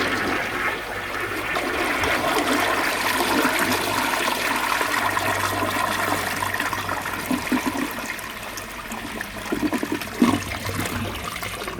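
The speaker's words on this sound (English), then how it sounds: "I'm gonna give it a full flush from the water line again." A full flush of a rare 1957 Dresden blue Universal Rundle toilet, heard up close. Water rushes loudly and steadily for about ten seconds, then ends in gurgling refill trickles.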